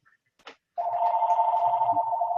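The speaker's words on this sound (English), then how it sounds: "Oh gosh, there goes my phone." A telephone rings with a sustained electronic ring tone after a short click, continuous and fairly loud for about a second and a half, with no talk over it.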